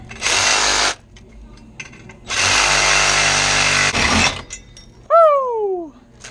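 A loud power tool cuts through the metal flange of a pipe outdoors in two long harsh bursts separated by a pause, then a brief whining spin-down as the tool winds down.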